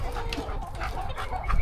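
Chickens and aggressive, flogging roosters in a dirty farm pen make a steady, close chorus of overlapping clucks and squawks with no pause.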